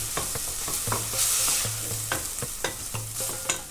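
Red lentils and other ingredients sautéing in a pan for Lebanese red lentil soup, with a steady sizzle under repeated scraping stirs, up close with no talk.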